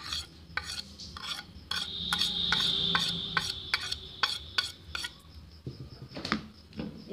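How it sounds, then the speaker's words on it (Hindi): Cauliflower kofta mixture being mixed with salt by hand in a bowl: rhythmic squishing, rubbing strokes with light clinks of the vessel, close and fairly quiet. "इसे हम हाथ से मिक्स करेंगे।"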